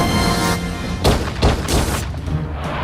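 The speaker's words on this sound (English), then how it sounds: "Gunshots ring out" Gunshots from a nighttime assassination attempt form a few sharp, loud bursts in quick succession over a dense, noisy background.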